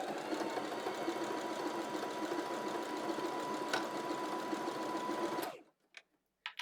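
Sewing machine stitching a seam on an off-shoulder tie-top, a steady close motor hum with rapid needle chatter running continuously before stopping abruptly, followed by faint handling noises.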